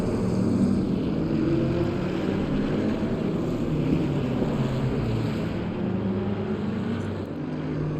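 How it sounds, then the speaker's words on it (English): A continuous low race car engine roar in Assetto Corsa Competizione at the Nürburgring drones on without a break, broad and rumbling, steady in level with a slight dip near the end. "Just listen to the engines."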